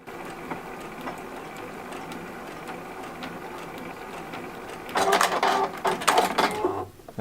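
Computerized sewing machine stitching a series of small decorative hearts of varying size, a steady low mechanical whir that swells into louder, busier stitching bursts near the end.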